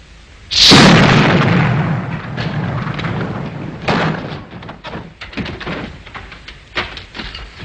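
Ship's cannons fire in a sudden loud blast that rolls on for a few seconds, followed by further scattered booms and thuds at varying distances.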